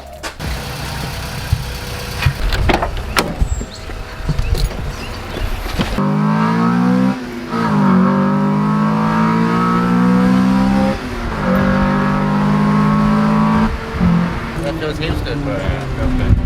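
A Honda Civic EK4 with a new full custom exhaust, first idling with clatter and knocks, then driving with a loud, steady engine note that rises and falls through gear changes, with voices talking over it.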